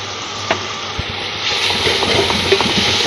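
Spiced masala for chicken yakhni pulao frying in a pot, a steady loud sizzle throughout with a few stirring knocks and scrapes of a spoon, the hiss swelling a little toward the end.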